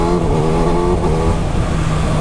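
A 2019 Kawasaki Ninja ZX6R sports motorcycle engine idles and revs close by, a loud, steady buzzy drone with rising and falling pitch, heard alone without talk.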